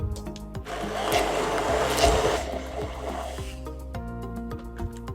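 A kitchen blender blitzes peas with hot stock and a little salt for a pea and shrimp risotto, giving a steady, close whirring roar for about five seconds that swells louder midway.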